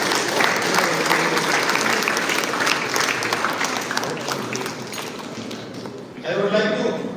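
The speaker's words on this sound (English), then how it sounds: "Let us give a clapping hands to Lordship" Sustained applause from an audience at a state-level English moot court competition at a government law college, dense clapping that fills the hall for several seconds and thins slightly before a brief renewed burst near the end.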